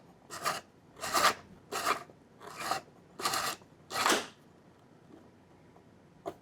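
Photographic film is wound onto a developing reel in six even, rasping strokes, each about half a second long, close and fairly quiet.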